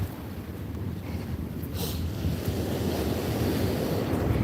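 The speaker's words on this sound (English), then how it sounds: "I'm gonna put you back so you can watch the waves" Ocean waves wash onto a rocky shore in a steady, rushing roar, mixed with gusty wind buffeting the microphone, loud and continuous with no voices.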